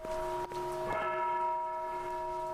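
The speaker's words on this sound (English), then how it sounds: "the bell is ringing." Inside a horror video game, a church bell rings with a single clear strike. A sustained metallic tone follows and hangs steadily over a quiet background, fairly faint and distant.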